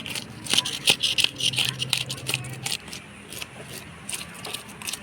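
Rohu fish being scaled by hand, a busy run of scraping, crackling strokes in the first half, some of them sharp, that thin out into quieter scratching toward the end.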